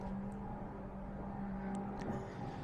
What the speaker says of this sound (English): I can hear the Bentley's truck over in the distance.